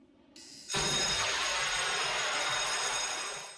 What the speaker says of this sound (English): That's Clarice ringing a door